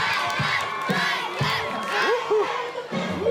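A big crowd of some 2,000 campers cheers and shouts for a Michael Jackson tribute show at a campsite, with a steady roar of whoops and yells rising and falling together.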